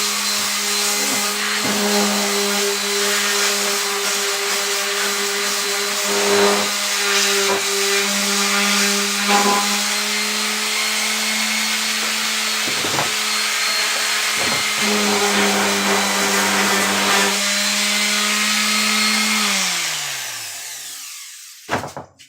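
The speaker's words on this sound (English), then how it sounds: "I'm still gonna take that sander and go over it" An electric sander runs steadily on wood for an entertainment stand, a loud continuous motor hum with a few brief bumps and scrapes, then it winds down and stops near the end.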